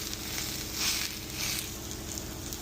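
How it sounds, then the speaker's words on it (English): A sous vide top round steak sears in a skillet with a loud, steady sizzle that swells slightly at moments, heard up close with no talking. "I flipped it around. I have 1 minute, and you can see the searing going on."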